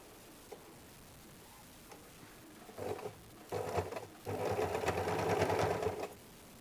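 A sewing machine stitches a size 34 belt blouse in short bursts, first faint and then running louder and steadier in a fast whirring chatter, close by and without speech.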